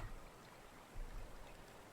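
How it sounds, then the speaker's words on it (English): Steady rushing river water in a video game (Medieval Dynasty) flowing continuously, a soft broadband wash with no voices, fairly quiet throughout. "that's just the sound of the river"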